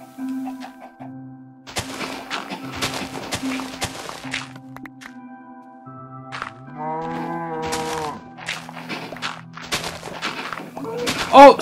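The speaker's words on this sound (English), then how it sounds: "Oh, you're killing the cow." A Minecraft cow lets out a few short, gurgling moos around the middle as it gets struck by a shovel, with soft game thuds and ambient background noise before and after.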